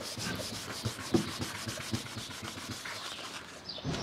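A magic eraser scrubs leftover emblem adhesive from the trunk lid of a 2014 Chrysler 300S, giving quick repeated rubbing strokes close up with a dry, sanding-like scratch.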